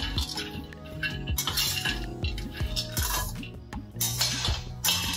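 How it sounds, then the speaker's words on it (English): Cashews and other nuts are stirred in a pan while roasting, with a spoon repeatedly scraping and clinking against the metal at a steady rhythm, close and clear, with no talk. "I'm going to roast them a little more longer, especially till the time my cashews turn little light brown"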